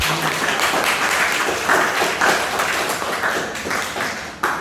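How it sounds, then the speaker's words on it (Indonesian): A church ecumenical gathering's audience claps for presenters, a broad wash of many hands that holds steady for several seconds with a few sharper claps near the end. "tepuk tangan untuk mereka"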